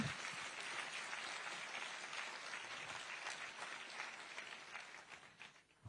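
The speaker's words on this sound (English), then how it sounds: "you can give a round of applause for that." Faint, steady round of audience applause at an event for Emmanuel Macron's visit to an AI campus in India, even clapping that tapers off toward the end.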